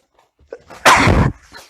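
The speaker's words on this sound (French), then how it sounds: "j'ai envie d'éternuer" A single loud, sharp sneeze bursts out close by, preceded by a quick intake of breath, then quiet.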